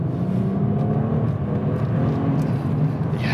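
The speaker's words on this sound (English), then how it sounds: "Yeah, what a great engine." A 2011 BMW 1M engine heard from inside while driving, a steady loud drone with low harmonic hum throughout and no voices.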